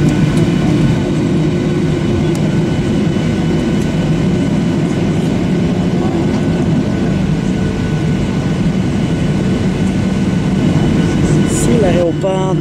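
A steady, loud rumble of a train running, with continuous low mechanical roar and rattling throughout, and a few brief brake squeals near the end.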